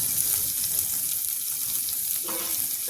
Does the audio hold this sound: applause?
no